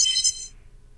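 A short, bright electronic chime from a video game kiss bonus rings out for about half a second, high and sparkly, then cuts to near silence.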